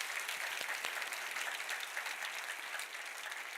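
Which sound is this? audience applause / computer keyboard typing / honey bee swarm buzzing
audience applause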